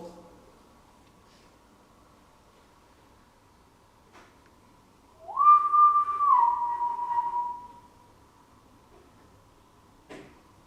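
A single sustained whistle of about two seconds rises, then slides slightly down in pitch, heard alone against a quiet room with faint knocks, in Bolling Hall during a paranormal investigation.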